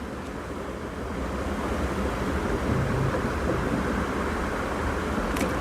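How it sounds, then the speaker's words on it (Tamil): A ginger, garlic and green chili paste fries in a pan for a mild white chicken pulao. The sizzle is soft, dense and continuous, with no one talking. "அதையும் நல்லா ஃப்ரை பண்ணிக்கலாம்."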